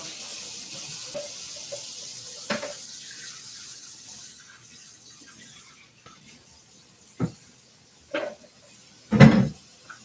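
A kitchen sink tap runs water while a beet-stained juicer is rinsed, a faint steady wash broken by a few louder knocks and clunks of parts near the end.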